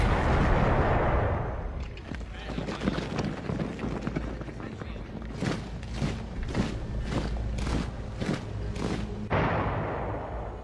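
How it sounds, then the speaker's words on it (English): Heavy cannon fire at the start of the Second World War at Danzig, a loud boom followed by a run of sharp repeated blasts and rumbling, with a narrator's voice partly over it. "The first cannon shot of the Second World War is fired on Danzig"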